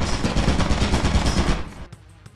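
A turret in the video game Lethal Company fires a rapid, dense burst of gunshots for about one and a half seconds, then stops, leaving brief faint clatter.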